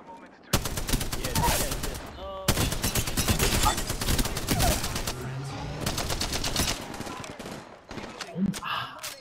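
Dense rapid gunfire from the video game Apex Legends crackles in sustained automatic bursts, loud and close, with short pauses between volleys and a few faint voices underneath.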